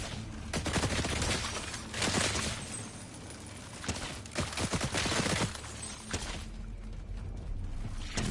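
A Gatling machine gun fires at bugs in a video game, rattling out in dense bursts separated by short pauses, with crackling impacts layered over a busy game background.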